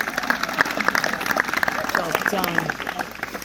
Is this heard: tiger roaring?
no